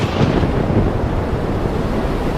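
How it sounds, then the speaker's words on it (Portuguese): A dense, steady roar of heavy rain and wind at sea, loud and unbroken, like a storm pounding close by. "Tem uma chuva aí."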